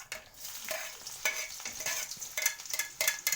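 Onions and cumin seeds sizzle in a pan while a spoon stirs them, a steady bright crackling frying sound broken by close scraping strokes, with no talking.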